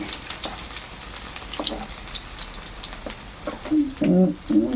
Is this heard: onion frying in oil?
yes